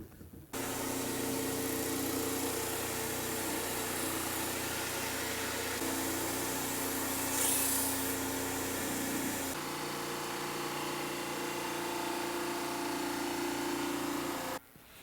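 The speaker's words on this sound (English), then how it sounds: "Run through this drum sander and see what we're going to end up with." A drum sander hums steadily while a guitar neck blank feeds through it, a continuous loud machine drone lasting about fourteen seconds whose pitch shifts slightly partway through as the wood is sanded, with no speech.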